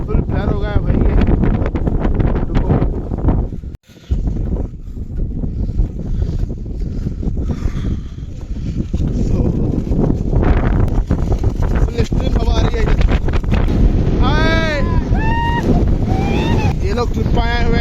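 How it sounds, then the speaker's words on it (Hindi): Strong wind roars across a hilltop viewpoint in Coorg during the monsoon, a loud continuous buffeting rush against the microphone for the whole stretch, with a brief drop partway and a voice talking over it near the end. "हवा भी बहुत तेज चल रही थी"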